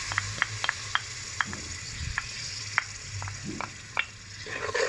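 Spice masala with ground coriander and tomato paste fries in a pot while a metal spoon clinks repeatedly against the pan, sharp scraping taps over a low sizzle, close and steady, no voices.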